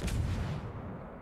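A naval video game warship fires a broadside, a single heavy boom with a quick sharp onset that decays into a low rumbling tail over about a second.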